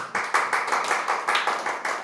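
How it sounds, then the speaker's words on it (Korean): A church congregation at a Friday worship service claps together in encouragement, a steady run of rhythmic clapping bursts at moderate loudness, with no voices over it. "격려의 박수 한번 주시죠."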